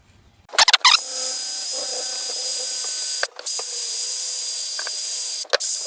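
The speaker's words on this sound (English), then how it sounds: "I think I'm going to put a wire wheel in the drill" Electric drill fitted with a wire wheel scrubbing rust from part of a Briggs and Stratton engine during stator replacement. A loud, steady whirring grind runs in two long bursts, broken by a short pause, with a bump of handling noise at the start.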